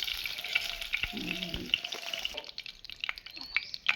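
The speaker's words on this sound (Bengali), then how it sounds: "একইভাবে এই মাছটাও ভেজে নেব।" Soft pabda fish fries gently in oil, giving a quiet, uneven sizzle with scattered small pops and crackles. A brief clatter of handling comes close by, and no one speaks.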